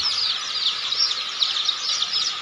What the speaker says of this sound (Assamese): এইটো অৰিজিনেল লোকেল মুৰ্গীৰ পোৱালি